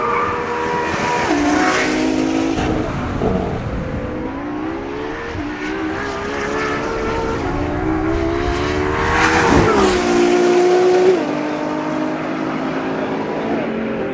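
Ferrari LaFerrari with a 6.2 litre naturally aspirated V12 driven hard at Fiorano, loud rising and falling engine notes through repeated gear changes, with a sharp high-revving climb near the end.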